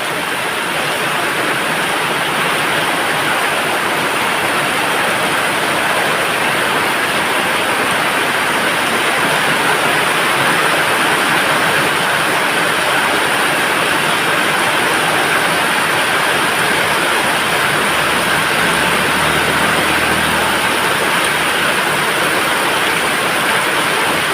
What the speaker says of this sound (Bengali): এত জোরে বৃষ্টি হচ্ছে তবুও যানবাহন চলাচল চলছেই।